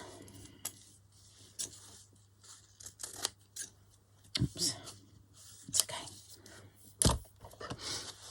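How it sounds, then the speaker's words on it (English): Scissors trim paper for a vintage-style Christmas journal in a quiet room, giving a scattered run of crisp, close snips and paper rustles at an uneven pace with no talking. "I think I'll just trim it a bit"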